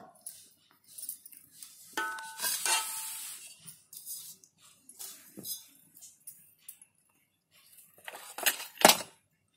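Eggless vanilla sponge cake ingredients, oil and ghee included, being mixed in a bowl: intermittent scraping and clinking of a spoon against the bowl, with bursts of stirring and quiet gaps between them, close up.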